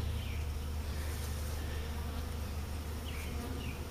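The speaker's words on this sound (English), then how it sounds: "Bees are coming and going out of the entrance down there on the front of it." Dense, continuous buzzing of many honey bees around a busy hive entrance, a steady swarm hum with individual insects occasionally passing closer.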